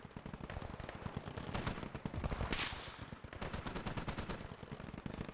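Modded machine gun fire in the Gates of Hell war game: dense, continuous automatic bursts with sharp bullet cracks and heavy overlapping gunfire throughout, loud and close.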